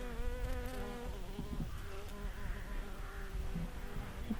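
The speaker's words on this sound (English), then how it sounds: "Borage is keeping the bees happy." Bees drone and buzz steadily up close around borage flowers in a garden, a continuous hum with several insects weaving around.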